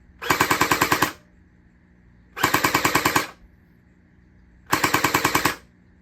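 A Lightning Blaster Pro toy blaster fires fully automatic in three loud, close bursts of about a second each, every one a rapid mechanical rattle of roughly ten shots, with quiet pauses between them.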